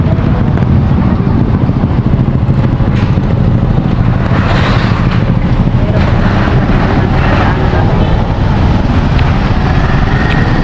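A motorcycle ride through Catanauan, Quezon in the Philippines, with a steady engine drone buried under constant heavy wind buffeting on the microphone for the whole stretch.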